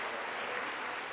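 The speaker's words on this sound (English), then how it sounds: "Please give them another round of applause." An audience at an agricultural awards gala claps for a singer, a brief, moderately faint wash of steady applause.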